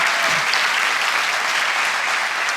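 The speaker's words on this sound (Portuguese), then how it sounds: "Alguém pode dar um aplauso ao Senhor por causa disso?" A church congregation applauds in praise during a worship service, a dense, steady wash of many hands clapping that fills the space evenly from start to finish.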